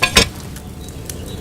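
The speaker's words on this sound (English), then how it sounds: "Hear that bubbling? It's boiling." A cauldron boils over a flame while brewing potions in the medieval game Kingdom Come Deliverance 2, giving a few soft, close bubbling pops and sizzles, with one louder burst at the start and quieter blips after.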